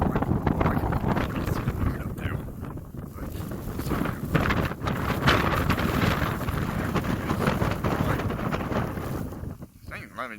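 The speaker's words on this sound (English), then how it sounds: "the snow really blowing like some miles per hour" Strong blizzard wind roars steadily across the microphone at night in Ames, Iowa, a loud broadband buffeting rush that barely eases over ten seconds, with faint voices mixed into the gusts.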